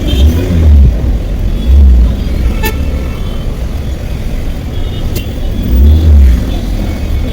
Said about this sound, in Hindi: रुक रुक के चलाना पड़ रहा है।